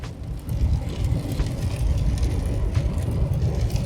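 A 2024 Chevy 2500 HD with a 6.6L gas engine and ten-speed Allison transmission drones steadily while towing at highway speed, with a low rumbling engine note and road noise continuing through a downshift.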